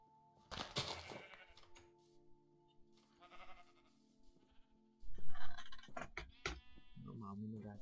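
Sheep in the video game Minecraft bleat in short nasal calls, several spaced through the stretch at moderate loudness, mixed with keyboard clicks and someone talking in Slovene.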